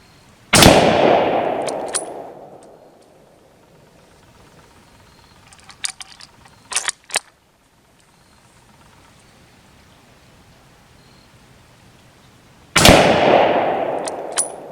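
US 1903 Springfield rifle firing outdoors, two loud sharp shots with long decaying echoes, separated by quiet handling clicks of the bolt between them.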